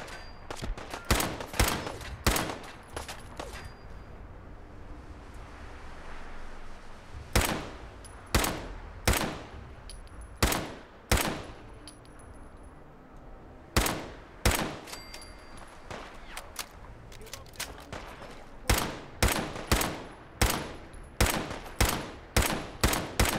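Gunfire in Fallout 4: sharp, loud single shots and short volleys ring out in irregular bursts, with pauses between groups and a final run of steady rapid shots.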